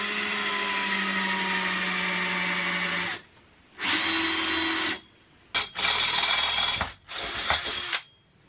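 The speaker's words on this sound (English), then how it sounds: "I'm going to use the drill to just kind of make a mark here." A power drill whirs into a wood block in four bursts, the first long and the rest shorter, with brief quiet pauses between them, close and fairly loud.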